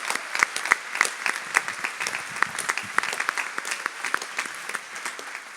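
An audience at a Radio Maria gathering applauding Paris volunteers: dense, lively clapping from a large crowd, close and sustained throughout, with a few sharper individual claps standing out.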